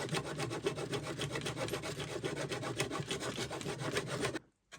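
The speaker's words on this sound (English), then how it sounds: "And we're just going to saw this to length." A model maker's saw in a wooden handle cuts laminated stick dulcimer sides to length, a steady rapid rasping of close back-and-forth strokes that runs continuously, then stops abruptly near the end.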